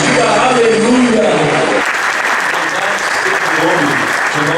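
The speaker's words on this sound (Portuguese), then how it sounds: "Vamos aplaudir ao Senhor Jesus." A church congregation applauds during a worship service, with loud, sustained clapping from many people. Singing or talk overlaps the first couple of seconds, and the clapping continues alone after that.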